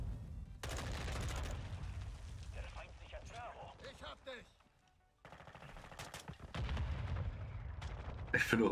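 Rapid automatic gunfire from the player's weapon in the Modern Warfare 2 beta, loud sustained bursts broken by a short lull in the middle, then resuming with heavy crackling shots.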